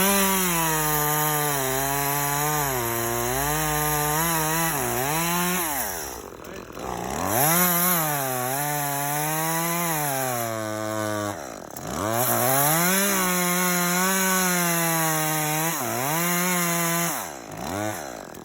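A chainsaw makes repeated cuts into wood, its engine revving up and bogging down in a steady cycle, with brief dips between cuts; loud and close throughout, no voices.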